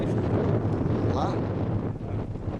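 Strong wind roars outdoors, carrying sand, with steady buffeting against the microphone and a low rumbling throughout, while voices talk faintly underneath.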